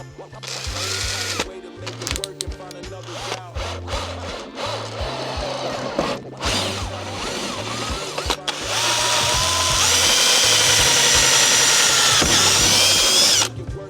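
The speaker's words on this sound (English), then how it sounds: "Just got a nice small 4mm drill bit for this one." A small drill with a 4mm bit runs in short bursts, then whines steadily in a longer run through plastic, close by with some clatter between bursts.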